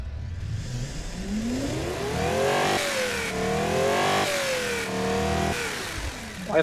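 A small car engine with 114 horsepower and 163 pound-feet of torque, fitted with an oversized exhaust, revs up and down in a few sweeping pulls and holds steady and fairly loud, ending with a short pop.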